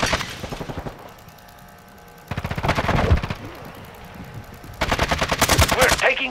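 Rapid automatic gunfire bursts from Call of Duty: Modern Warfare II multiplayer combat, loud and close, with a quieter lull between two heavy volleys and game callout voices faintly underneath.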